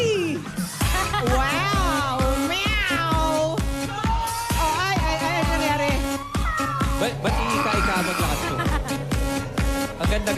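On a Filipino TV variety game show, a person imitates a cat with repeated, drawn-out meows and caterwauls, loud and close over busy, rhythmic stage music.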